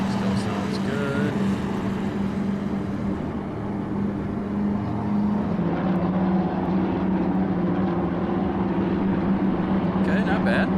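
The radial engine of a P-47D Razorback in a flight simulator roars steadily and loud throughout with a droning, slightly enclosed tone, while someone talks over it.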